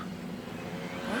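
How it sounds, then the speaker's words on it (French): A motorcycle passes somewhere outdoors as a faint, steady engine drone that swells slightly toward the end, with no voices over it. "La moto."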